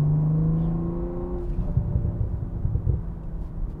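A 2023 BMW M340i with M suspension is cornering on a test drive. A steady engine drone rises and falls with road and wind noise from inside the cabin, and there is no talk.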